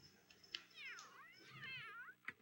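A cat meows in two long, wavering calls with a short chirp at the start and a sharp sound at the end, close and fairly loud, no talking.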